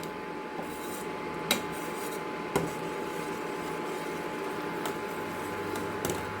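Metal spoon scraping and clinking against a pot of boiling milk at a few irregular moments over a steady low background hum.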